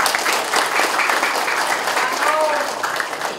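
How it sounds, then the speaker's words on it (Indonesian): Audience applause at a street vendor area opening event, a steady dense burst of clapping from a crowd that carries on for a few seconds, close and loud, with a voice audible through it. "tepuk tangan buat beliau"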